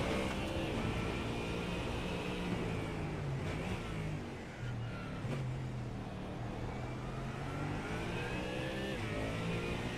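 Ford Mustang GT3 race car engine roaring steadily in a racing video game, a loud sustained drone with shifting pitch as it accelerates and changes gears, other cars faintly audible.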